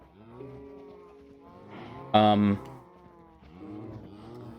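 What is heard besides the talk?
cows mooing in Minecraft video game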